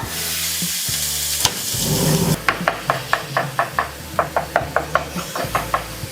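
Ground beef for taco deviled eggs sizzles loudly in a pan. Then a run of sharp, evenly spaced taps and scrapes, like a spatula working the meat, sounds over the continuing fry, with no talking.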